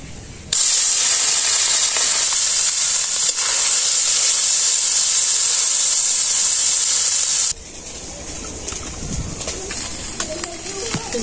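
Onion and green chilli frying in a pan, starting as a loud, sustained bright hiss that cuts off abruptly partway through and leaves softer background sounds.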